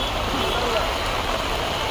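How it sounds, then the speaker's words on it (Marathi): Heavy rain falls on an outdoor weekly market, a dense, even hiss of drops pattering on surfaces all around. "मी जशी मार्केटमध्ये पोहोचली तसं पाऊस आला"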